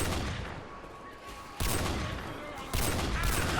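A Ruger hunting rifle fires in Left 4 Dead 2: two sharp, loud gunshots about a second apart, each with a rumbling tail, over a steady background din.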